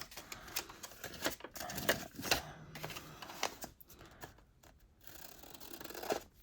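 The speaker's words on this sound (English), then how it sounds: "trim off any excess. I feel like it needs a little bit more trimmed off, like that so it fits better in the envelope" Scissors snip through leftover wrapping paper, trimming it to fit an envelope: a run of close, crisp cutting strokes and rustles with short pauses, at moderate level and with no speech.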